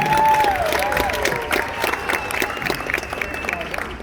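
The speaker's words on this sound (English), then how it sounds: "All this applause is for you." An audience applauds and cheers at a sea lion show at SeaWorld Orlando, a steady wash of clapping with voices and other sounds mixed in.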